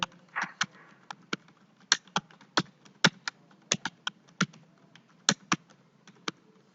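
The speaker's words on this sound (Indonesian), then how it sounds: "kita bisa langsung mengetik di sini" Computer keys clack in an irregular series of crisp, close taps, about two per second, with separate strokes and brief pauses against a quiet room with no talking.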